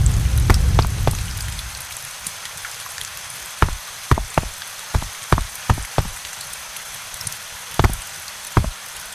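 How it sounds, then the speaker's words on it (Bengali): A sudden burst of rain hammers down loudly for the first second or so, then fades, leaving sparse, sharp knocking drops and taps spread across a quiet background. "হঠাৎ করে বৃষ্টি শুরু হলো কোথা থেকে?"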